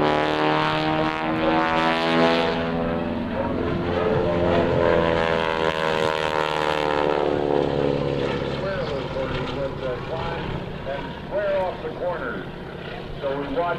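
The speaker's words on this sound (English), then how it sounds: "he's flying inverted down close to the ground" Propeller aerobatic airplane flying low and inverted close to the ground at a naval air station airshow, a loud droning engine whose pitch sweeps up and down as it passes, with a commentator talking over it throughout.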